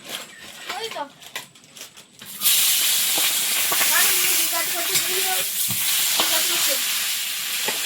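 Hot oil sizzling in a pan while cooking katla fish head: quiet kitchen clatter and a voice give way to a sudden loud, sustained hiss of frying that continues steadily, with a voice talking over it.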